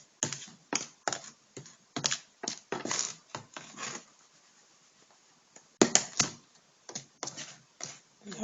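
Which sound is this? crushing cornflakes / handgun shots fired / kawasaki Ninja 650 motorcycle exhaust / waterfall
crushing cornflakes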